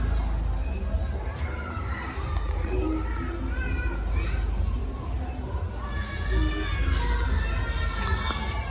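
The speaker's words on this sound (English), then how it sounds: "there is a school or play group just opposite, which is why you can hear the kids screaming" Children screaming and playing at a school or playgroup across the street from a pub, a dense, continuous wash of distant young voices shouting and chattering with crowd-like babble throughout.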